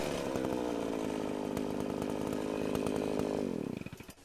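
A chainsaw-like power tool roars steadily at close range, its engine buzzing loud and constant before winding down and sputtering to a stop near the end.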